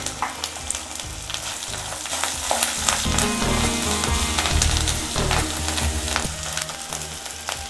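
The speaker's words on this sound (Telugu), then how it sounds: "పచ్చిమిర్చి కరివేపాకు వేగిపోయాయి కదా" Green chilies and curry leaves frying in hot oil with lentils for coconut rice, a steady loud sizzle with stirring scrapes throughout, no voices.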